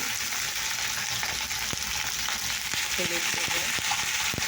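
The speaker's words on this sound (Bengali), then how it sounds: "ফুলকপিটা একটু নেড়ে ভেজা মানে অল্প করে হালকা করে ভেজে নিয়েছি" Cut cauliflower frying in hot oil in a pan, a steady close sizzle with intermittent scraping clicks of a stirring utensil, loud and continuous without talk.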